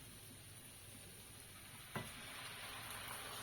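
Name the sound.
dry red wine poured into sizzling chicken giblets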